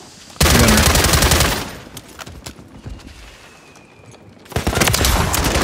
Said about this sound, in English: Nice shot, Mike.